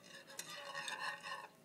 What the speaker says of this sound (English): let it simmer for 2 or 3 minutes while stirring constantly